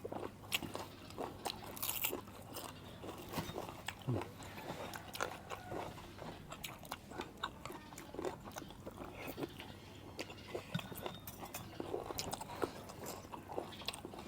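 Close-up crunching and chewing of a crisp, spicy salad, a steady run of bites and crunches with no talking.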